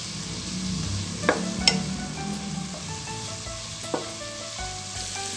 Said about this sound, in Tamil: சேர்த்துட்டு இதையும் நல்லா வதக்கிடுங்க.